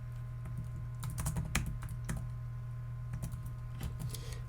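Fingers tap on a keyboard in short uneven bursts of clicks, fairly faint over a steady low hum, with no voices.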